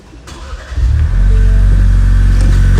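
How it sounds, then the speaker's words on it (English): A car fitted with a Roush aftermarket exhaust cranks and fires up after a brief quiet moment, then settles into a loud, steady, deep-toned idle with no talking over it. "This is the Roush exhaust. I'll go ahead and fire it up as well."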